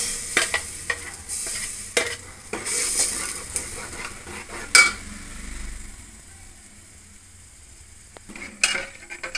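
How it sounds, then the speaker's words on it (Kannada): Spices tempering in hot oil for a fish curry, crackling and sizzling in a pan with intermittent spoon clinks and stirring scrapes, close and alone without talk. "ಇವಾಗ ನೋಡಿ ಒಗ್ಗರಣೆ ಕೊಟ್ಟಿದ್ದೀನಿ"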